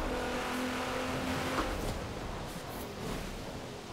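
A Nissan GT-R engine in the racing game Forza Horizon 4 drones steadily at moderate level, a sustained mechanical hum with slight rises and faint tire noise, without speech.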